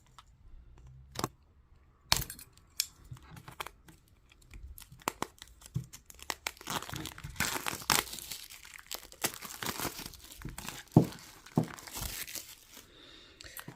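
Crinkly plastic wrap being torn and peeled off a boxed Lenormand card deck, with sharp crackles, rips and rustling bursts that grow denser and busier toward the end, heard close up with no talking.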